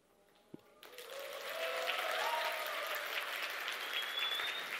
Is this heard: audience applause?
yes